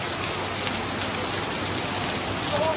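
Steady rain falls in hot, humid tropical weather in China, a continuous even hiss of drops on surfaces with no talking.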